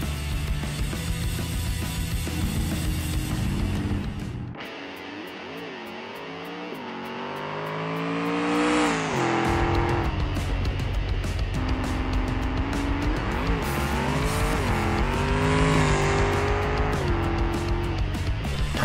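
A Barstow muscle car makes a drag run in BeamNG, engine roaring loud and close as it revs and shifts through gears, pitch climbing and dropping with each shift over nearly twenty seconds of sustained acceleration.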